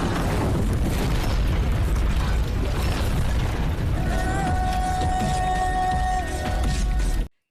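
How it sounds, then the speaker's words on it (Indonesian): A warehouse explodes in a loud, sustained blast, with rumbling debris and a rising mechanical whine that cuts off abruptly at the end. "Akan tetapi gudang pun meledak."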